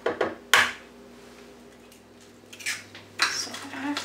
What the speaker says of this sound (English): Crack them right into your bowl.